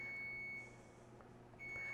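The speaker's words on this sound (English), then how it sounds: "Oh, and I hear my timer, which means that my noodles might be done." A kitchen timer sounds while noodles cook, giving a faint, steady high-pitched electronic beep that stops briefly and then resumes in a quiet kitchen.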